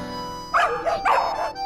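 A pet dog gives a few short, yappy barks in quick succession, close and clear over a quiet room tone.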